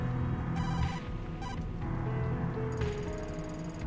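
A phone rings in the horror adventure game Tokyo Dark: Remembrance: short bursts of bright electronic trilling, then a longer sustained ring, over a steady low ambient drone.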